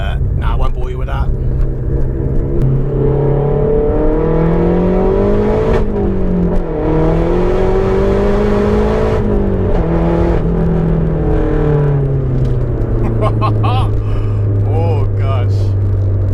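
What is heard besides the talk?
Mazda 3 MPS 400 BHP engine accelerating, loud cabin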